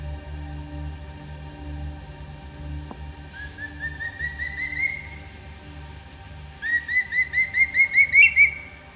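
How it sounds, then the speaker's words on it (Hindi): A changeable hawk-eagle calls in the forest of Bandhavgarh Tiger Reserve with clear rising whistled notes. A short series comes first, then a louder, faster run of whistles over a low steady vehicle hum. "ये है चेंजेबल हॉक ईगल, यानी एक प्रकार का शिकारी पक्षी"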